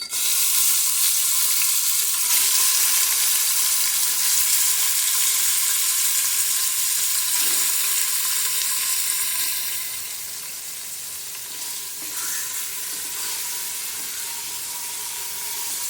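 Beef pieces frying in a few spoons of cooking oil for haleem, a continuous close sizzle with occasional stirring scrapes that eases to a quieter hiss partway through, no one speaking.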